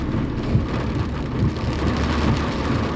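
Heavy rain drums on the roof of a small car, a dense, steady roar with no letup, heard close from inside the cabin.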